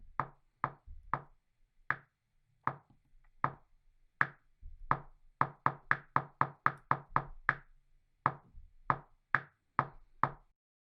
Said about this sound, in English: Let's hear how the click sounds, and we can start that by pressing on this metronome icon